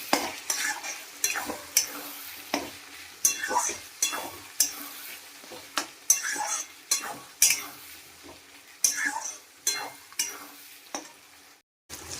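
Ground cumin, coriander, turmeric and chili powders fry in a pan while a spoon stirs them in steady, rhythmic scraping strokes roughly every half second, with a soft sizzle between strokes.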